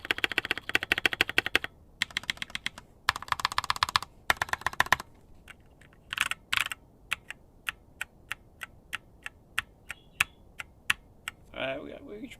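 A modded Kono67 mechanical keyboard typed on in bursts of rapid clacky keystrokes, then slower single presses with gaps, close and crisp with slightly pingy switches.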